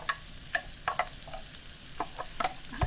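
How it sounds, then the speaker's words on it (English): Garlic sizzles in a hot weeknight skillet, a soft steady fry broken by several brief crackles and stirring scrapes, close and moderately quiet with no talking. "that sizzles what we like to hear. It means your pan is ready."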